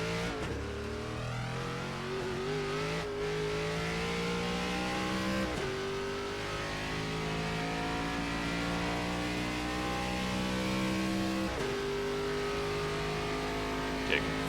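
An updated ARCA stock car engine in the iRacing simulator revs steadily throughout, rising in pitch through each gear with brief shift dips, a constant mid-level drone.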